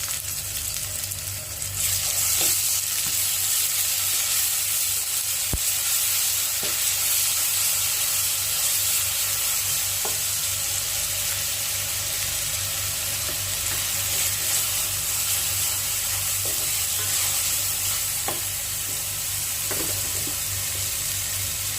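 Ginger garlic paste added to hot oil after frying ingredients to golden brown, for chicken pulao, sizzles loudly and steadily in a pan with a few sharp clicks of stirring, no voices.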